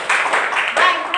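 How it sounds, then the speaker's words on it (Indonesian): Brief burst of classroom applause for group 1, several people clapping in quick uneven rhythm, close and fairly loud, with a voice talking over it. "tepuk tangan untuk kelompok 1"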